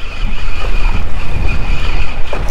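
Rough ocean waves wash around a fishing boat on a hot summer day, with a loud, steady roar of water and wind buffeting the microphone, and no voices.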